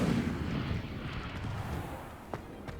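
The Incendio fire spell in Hogwarts Legacy lets out a low, roaring burst of flame that rumbles steadily, then tapers. A couple of short sharp snaps follow near the end.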